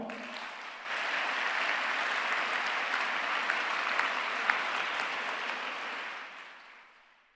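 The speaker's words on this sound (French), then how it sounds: "je vous demande d'ores et déjà de leur adresser un tonnerre d'applaudissements" An audience at a medical specialty congress breaks into sustained applause that swells quickly, holds as a dense, loud wash of clapping for several seconds, then fades out.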